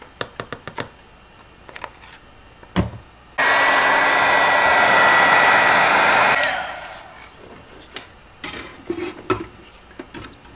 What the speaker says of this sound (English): I love heat embossing.